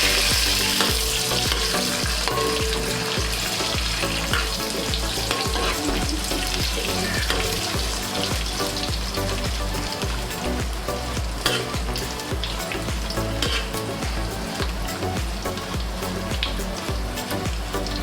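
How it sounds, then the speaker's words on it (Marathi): Whole spices roasting in hot oil for a one-pot vegetable pulao, a loud continuous close-up frying sizzle with rapid stirring clatter running throughout, no voices. "तेल आपलं गरम झालंय। हे खडे मसाले आपण घेतले ते भाजून घेऊया।"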